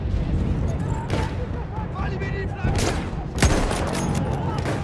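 Gunfire in the Battlefield 1 campaign, scattered shots and bursts with a few sharp louder cracks, heard under a steady wash of battle noise while someone talks excitedly.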